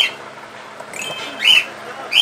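Birds at a small local business chirp in short, bright bursts, with a couple of distinct calls standing out near the end over a faint, steady background.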